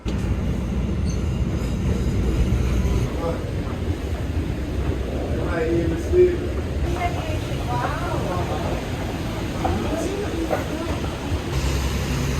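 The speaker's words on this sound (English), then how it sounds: "Catching the train." A train rumbles steadily along with a low, continuous roar, faint squeals and clatter rising now and then, and muffled voices talking underneath.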